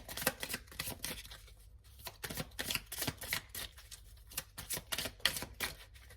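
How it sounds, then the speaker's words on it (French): A deck of cards being shuffled during a card reading, with dense bursts of rapid riffling and flicking close by, broken by short pauses. "je vais continuer à battre les cartes"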